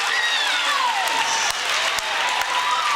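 A big crowd at a girls' varsity high school basketball game cheers and applauds, a dense wash of clapping and whoops with a few whistles, loud and continuous without a break.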